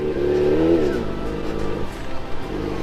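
A car engine revs through a long water crossing in first gear, loud and close, with a rising tone at the start that settles into a steady rumble for under three seconds.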